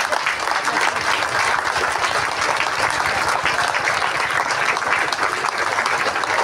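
An audience claps steadily and densely at a community gathering welcoming pilgrims, a loud, continuous wash of applause with no break.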